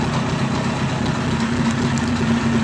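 A cold carbureted motorcycle engine idles low, giving a steady, close, droning rumble with no other sounds over it.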